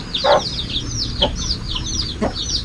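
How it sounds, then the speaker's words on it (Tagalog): Native chickens cluck in short repeated bursts close by, with a few louder calls over a steady outdoor background and no talk. "Yan o, manok ni Irpat"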